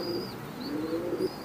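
An imported teddy pigeon coos nearby in a low, soft, rolling murmur, a brief throaty call repeated over a faint background hum.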